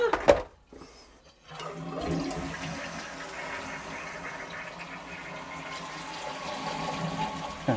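An old toilet under repair flushes, with a sharp onset, then a brief quiet, then a steady rushing and gurgling of water refilling the bowl that continues close and loud to the end.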